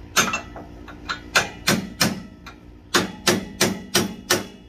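A hammer strikes a steel bar to pop welds off a steel trailer ramp, about a dozen sharp metallic blows in uneven bursts, close and alone.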